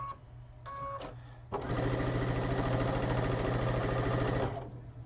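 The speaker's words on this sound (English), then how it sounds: "And sewing them up." A sewing machine stitches two pieces of fabric together. A few brief starts are followed by a steady, rapid run of needle clatter lasting about three seconds, which then stops.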